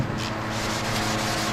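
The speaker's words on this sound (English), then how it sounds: "now we can sand this whole tank down" Continuous rough abrasive rubbing, a steady scraping hiss of sandpaper wet-sanding a metal motorcycle tank with soapy water, worked back and forth, close up and uninterrupted.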